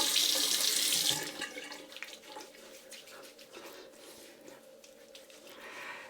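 Tap water runs into a sink to rinse a razor during a shave, a loud gush for the first second that drops to a softer, uneven trickle with small splashes.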